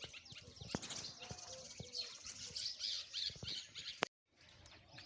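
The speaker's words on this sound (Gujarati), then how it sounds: "અને બુલબુલ આવ્યા છે।" Bulbul birds calling in a village, a busy run of sharp squawks and chirps close by, briefly cut off near the end before resuming more faintly.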